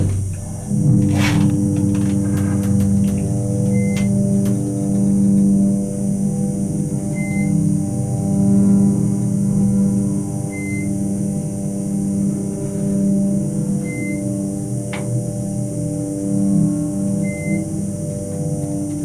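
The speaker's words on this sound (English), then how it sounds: "Let's listen to the motor." A Westinghouse hydraulic elevator motor at a Holiday Inn in St. Louis hums steadily and loudly with a low, tonal drone, with a few brief clicks early on and faint periodic beeps over the running motor.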